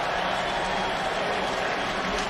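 A football stadium crowd in Cleveland cheers steadily as fans rise to their feet during an NFL game between the Browns and Bengals, a dense, continuous roar with no distinct breaks.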